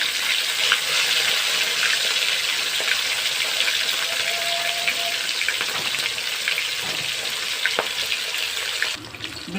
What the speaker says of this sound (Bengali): এবার ভেজে নিচ্ছি তেল গরম করতে দিয়ে দিয়েছিলাম কড়াইতে